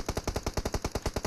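Rapid automatic gunfire from PUBG Mobile, a steady burst of about a dozen evenly spaced shots, loud and close, with no talking over it.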